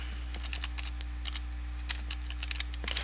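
Quick bursts of keystrokes on a computer keyboard, typed while entering Minecraft single-player commands, come in uneven clusters over a steady low hum, close and moderately loud, with no talking.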